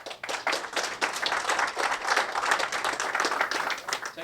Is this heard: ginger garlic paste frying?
no